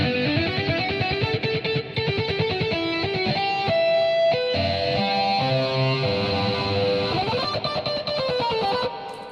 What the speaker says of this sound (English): if I solo that guitar track, then you'll notice that I put a little chorus on it.